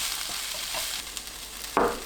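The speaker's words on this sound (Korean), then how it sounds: "식용유 한 스푼 두른 팬에 양파를 넣습니다. 중불로 5분간 양파를 볶아주세요." Onions fry softly in a pan with a spoonful of cooking oil over medium heat, giving a faint sizzle with light stirring scrapes and one sharper clatter near the end.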